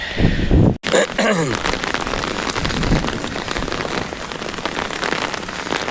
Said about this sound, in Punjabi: ਬਹੁਤ ਜਿਹੜੀ ਤੇਜ਼ ਹੈ بارش ਉਹ ਸ਼ੁਰੂ ਹੋ ਗਈ ਹੈ